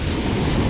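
Large waves surging onto Bakung beach in Pacitan, a dense, loud, continuous roar of surf with a wind-like rush and no voices.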